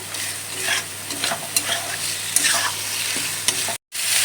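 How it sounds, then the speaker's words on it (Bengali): Chicken scraps frying with spices in a pan, stirred vigorously; a loud, close sizzle with repeated scraping strokes of the spoon and a brief cut near the end. "মাখিয়ে রাখা চিকেন ছাঁক কারি আপনাদের সঙ্গে শেয়ার করছি দিয়ে দিলাম দিয়ে একটু মশলার সঙ্গে কষিয়ে নিচ্ছি"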